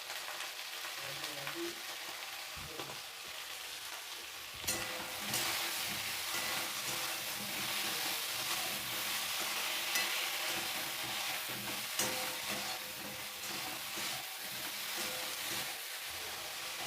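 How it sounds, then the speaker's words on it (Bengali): Eggplant pieces frying with salt and turmeric, a low steady hiss and crackle of oil with a sharp clatter near the start, then continuous stirring scrapes over a broader, denser sizzle. "বেগুনটা খুব ভালোভাবে কিছুক্ষণ নাড়াচাড়া করে নিয়েছি"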